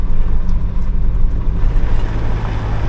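A car travels down Bloody Basin Road near Sheeps Bridge, its engine a loud, steady low rumble close by with road noise, passing without any talk.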